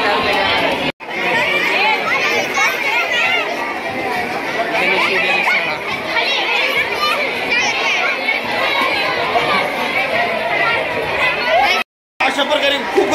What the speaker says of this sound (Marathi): अशा प्रकारे खूप गर्दी आहे इथे।